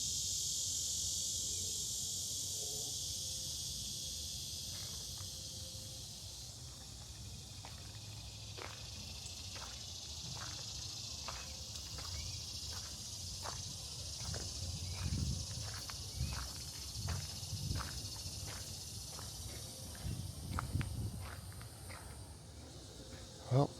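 Insects chirp in a steady high-pitched drone at the ruins of an old Florida sugar mill garden, a continuous outdoor buzz with faint footsteps and light rustling underneath.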